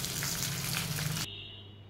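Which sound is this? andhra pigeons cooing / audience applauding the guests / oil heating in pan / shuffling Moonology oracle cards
oil heating in pan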